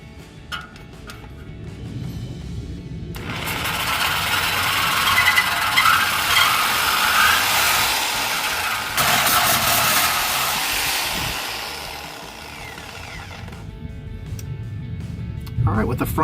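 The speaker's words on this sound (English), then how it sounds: "at the rear of the muffler, we're going to be cutting where we marked that line that was 2 3/4 inches from the rear of the muffler" A power saw cuts through the exhaust pipe at the rear of a 2019-2023 Silverado muffler, a loud harsh grinding shriek lasting about ten seconds with a brief break partway through, while a person talks under it.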